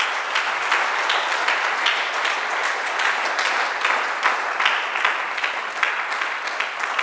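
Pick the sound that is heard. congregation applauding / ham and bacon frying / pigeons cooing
congregation applauding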